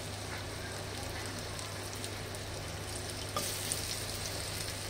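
Small slices of alu wadi shallow-fry over medium heat in white oil with mustard seeds. A quiet, continuous crackling sizzle runs throughout, with a brief louder spatter near the end.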